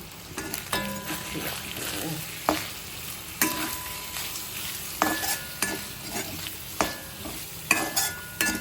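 Beef frying in a pan with chili powder and turmeric sizzles constantly while a spoon scrapes and stirs it in repeated bursts, close and clear, with no talking.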